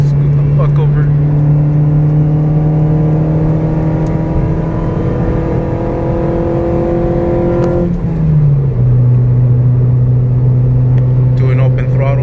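Tuned car engine revving at open throttle, loud and close, pitch climbing steadily for several seconds, then dropping sharply on a shift and climbing again, with a person talking over it.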